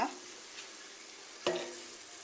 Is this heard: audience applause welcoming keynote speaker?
no